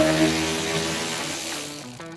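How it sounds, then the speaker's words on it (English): A ratchet backing out a 10mm bolt on the front bumper of a 2018 Toyota RAV4 gives a short, close burst of rapid clicking over a steady mechanical whir that fades at the end. "If not, a ratchet set will work also."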